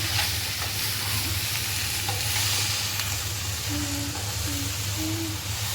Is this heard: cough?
no